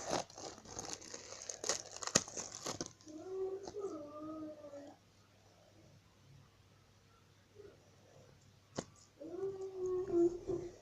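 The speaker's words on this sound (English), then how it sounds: "if you can hear like crying in the background, it's just my nephew" A young nephew cries in the background in two wavering bouts, distant and moderately quiet, after a burst of crinkling plastic packaging at the start.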